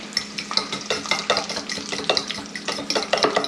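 Eggs are whisked with a fork in a bowl while preparing a breakfast burrito, giving quick, rhythmic scraping and splashing strokes, close and steady with no talk.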